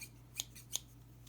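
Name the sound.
scissors from Victorinox Fibrox knife set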